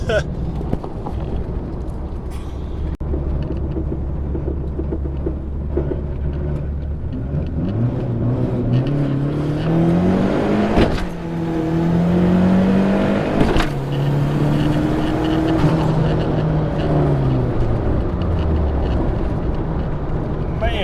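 Ford Mustang SVO engine revs hard under acceleration, its pitch climbing, dropping sharply at the 1-2 gear shift, then climbing again, loud and close throughout.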